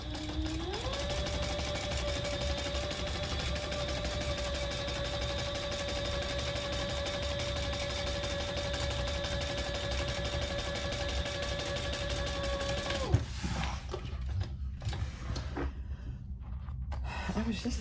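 A sewing machine topstitches the side-panel seam of a handmade Pelican tote bag, a steady unbroken run of stitching that hums for about thirteen seconds before stopping, after which only faint handling noise remains.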